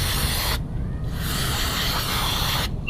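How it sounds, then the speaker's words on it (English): Aerosol brake cleaner hisses onto the torsion bar splines of a Lexus LX 470 / Toyota Land Cruiser 100 Series during an AHC delete suspension install, two close, loud bursts of spray separated by a brief pause. "Spray a little brake cleaner in there"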